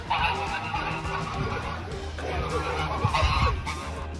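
Two geese honk and squabble in an agitated run of repeated calls, close and fairly loud, with a scuffle in the background and no clear talk.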